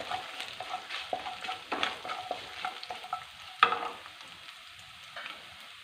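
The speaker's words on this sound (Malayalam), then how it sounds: "കടുക് പൊട്ടി അതിനകത്തോട്ട് ഇഞ്ചി ഇട്ടു" Ginger and garlic sizzle in hot oil with popping mustard seeds in a pan, a steady close frying crackle with stirring scrapes, alone without talk.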